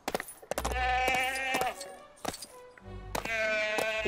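Goat bleats from Lego The Hobbit, a game-style animal cry repeated in several drawn-out wavering calls with short gaps, fairly loud and close, with faint background game sounds.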